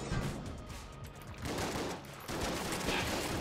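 Rapid bursts of shotgun fire from the Enter the Gungeon video game, dense and loud, firing in repeated volleys with no voices over them.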